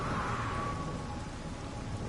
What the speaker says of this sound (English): Find out I'm the last human alive, and then it starts raining